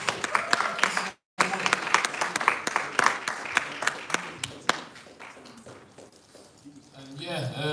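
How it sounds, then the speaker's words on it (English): An audience at a live poetry performance claps for a team poem, a brisk patter of hands that cuts out briefly, resumes, then thins and fades as a voice begins speaking. "A round of applause for Kenan"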